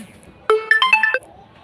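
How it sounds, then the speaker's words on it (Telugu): A phone rings after the find-phone feature on a Noise ColorFit Thrive smartwatch is triggered: a loud, close, bright melodic ringtone of several quick notes lasting under a second. "ఇదైతే ఫైండ్ ఫోన్ అని వస్తుంది, నొక్కితే మన ఫోన్ మోగిద్ది ఇట్లా"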